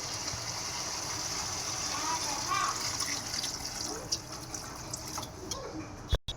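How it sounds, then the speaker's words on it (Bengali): Water is poured into a pan of soybean curry gravy, a continuous soft gushing pour followed by a few light clinks and a sudden clatter near the end. "এবার এর জন্য আমি এবার গ্রেভির জন্য জল দিয়ে দেবো।"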